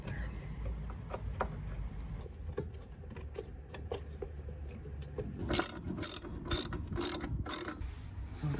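A torque wrench ratchets while tightening tow bar bolts to 68 Nm on a VW Golf Variant estate. The early part is quiet, then a run of five sharp, close metallic clicking bursts follows in steady rhythm.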